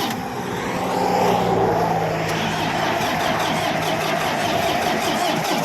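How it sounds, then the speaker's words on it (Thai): A used Yanmar tractor engine cranks and fires up, then settles into a loud, steady mid-pitched rumble close by. "เดี๋ยวลองใช้สตาร์ทเครื่อง ชมเครื่อง"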